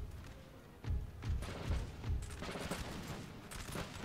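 Musket volleys crackle in a Napoleon Total War battle against Swedes, with repeated dull thumps and scattered popping shots rolling on for several seconds at moderate distance, with no talking.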